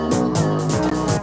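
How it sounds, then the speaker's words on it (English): Cowbell hits carry a drum fill alongside a snare within an electronic dance track, sounding as rhythmic bright strikes repeating roughly every third of a second over a loud, steady full mix. "And here we have some cowbells for the fill"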